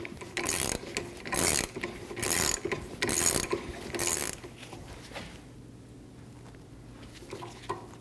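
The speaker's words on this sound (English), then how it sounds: "Using a 17mm wrench and a pair of adjustable pliers, we're going to hold our rod while we snug down our nut." A 17mm wrench snugs down the top strut nut on a 2012-2022 Volkswagen Passat rear shock mount, giving several quick bursts of ratcheting clicks followed by a quieter stretch of faint handling noise.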